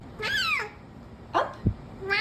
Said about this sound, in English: I have never heard a cat sound like this before.